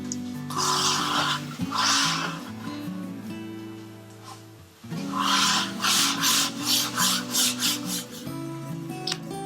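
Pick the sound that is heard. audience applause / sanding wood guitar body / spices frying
sanding wood guitar body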